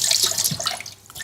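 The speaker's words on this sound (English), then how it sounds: "I'll just wash my hands a little bit and rinse them." Hands are rinsed under a running kitchen tap, a short close splash of flowing water with bright hissing spray and small drips.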